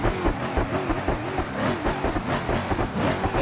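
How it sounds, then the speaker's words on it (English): Supercharged 5.5 engine with a stage 3 supercharger and side exit exhaust in a limo in the driving game BeamNG Drive, revving hard with a loud, continuous rough roar that pulses throughout. "Engine's definitely souped up."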